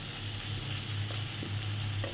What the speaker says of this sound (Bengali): এবারে মশলাটাকে ভালো করে ভেজে নেব। মশলাতে হালকা হালকা তেল উঠে গিয়েছে, মশলাটা ভাজা হয়ে আসছে।